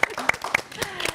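Scattered claps from an audience at a live talk session come as a few distinct, sharp hits over about a second, with a voice speaking underneath.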